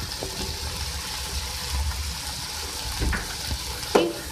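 Chopped tomato fries with ginger garlic paste in a pan for a Maggi noodle dish, giving a low continuous sizzle with occasional stirring scrapes and a louder clack near the end.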